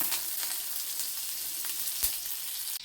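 A piece of butter sizzles and fries in a hot pan for a palak paneer recipe, a steady close hiss with a few soft pops and a brief clatter near the end.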